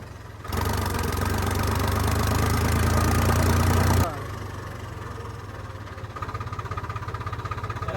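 A tractor engine idles with a steady low rumble that swells louder for a few seconds, then drops back to a softer continuous idle, heard close by.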